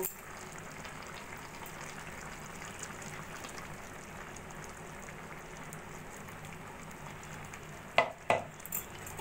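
Chicken rezala being stirred with a spice paste in a pan gives a steady, soft sizzle and scraping throughout, with a couple of sharper utensil knocks against the pan near the end.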